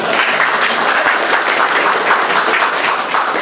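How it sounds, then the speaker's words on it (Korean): A crowd applauds at the opening ceremony of a Daegu office, dense steady clapping from many hands throughout, loud and close, with no voices over it. "박수."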